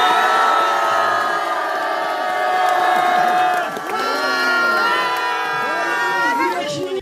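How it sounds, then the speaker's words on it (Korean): A crowd of supporters at a memorial service cheers and applauds loudly and continuously, with sustained voices and whoops forming a dense, close wash of sound throughout. "신의님께 아낌없는 박수 보내주시기 바랍니다."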